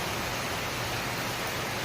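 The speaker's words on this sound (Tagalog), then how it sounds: "sobrang lakas ng ulan" Heavy rain pours down steadily in the Philippine countryside, a dense, loud, unbroken hiss of falling water with no pauses and no voices.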